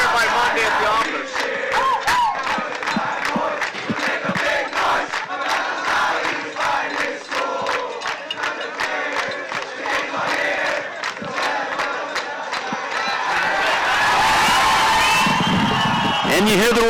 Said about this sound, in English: They're turning off the music to sing the school song here in Taos.